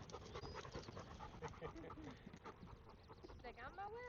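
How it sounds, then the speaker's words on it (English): A friendly dog panting on a hiking trail in Pisgah National Forest, quick steady breaths close by, with people talking over it and other outdoor noise throughout. "Yeah, we got a dog coming."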